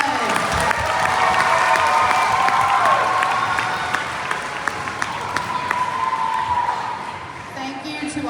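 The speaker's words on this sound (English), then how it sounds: "Let's give them another round of applause." Audience applause at an elementary school Black History program fills the whole stretch, steady and dense, with crowd noise, cheering and a few voices mixed in.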